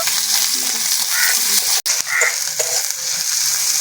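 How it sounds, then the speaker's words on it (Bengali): Chopped onion sizzles and crackles steadily in a hot pan with oil, a dense continuous fry with brief stirring knocks and one sharp utensil tap midway, close and loud with no voices. "একখানা পেঁয়াজ কুচিয়ে নিয়েছি পেঁয়াজটাকে ভালো করে ভেজে নেব"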